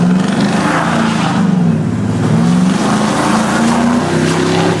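Car engine revving under turbo boost on a drive, a loud steady droning roar with rising and falling pitch sweeps as revs climb, heard from inside the moving car with no talk.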